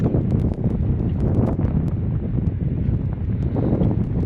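Strong wind blows beside the sea on a fishing pier at Samut Prakan at low tide, a loud steady roar of buffeting against the microphone with no pause.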